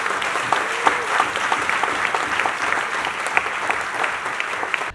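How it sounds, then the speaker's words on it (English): A theatre audience applauds at a staging of the musical 'Moremi' in Nigeria, with a full house clapping in a loud, continuous wash that stays even from start to finish. "Please, a beautiful round of applause for all women in this house."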